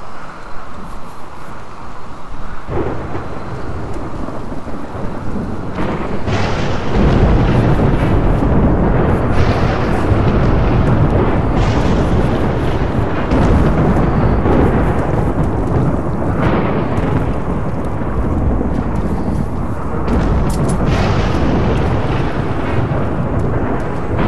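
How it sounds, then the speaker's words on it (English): A Rimworld thunderstorm with steady heavy rain, loud and continuous, broken by several deep rolling thunder crashes that swell and fade throughout. "Thunderstorm to brighten up everyone's day."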